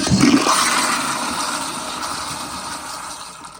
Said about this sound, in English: But here is a flush.